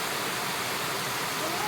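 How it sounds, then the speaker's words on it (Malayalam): A rain-fed stream running full through hilly countryside at Varalam Kunnu, a steady broadband rush of flowing water close by, continuous and even with no pauses. "ഇത് മഴ പെയ്യുന്ന നല്ലോണം ഒലിച്ച് പോകുന്ന തോടാണ്"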